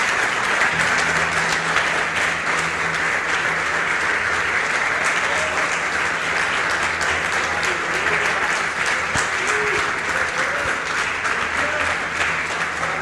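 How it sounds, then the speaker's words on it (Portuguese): A church congregation applauds continuously and loudly for the full stretch, a dense, even roar of clapping with faint voices beneath it. "Vamos aplaudir a Jesus, irmãos,"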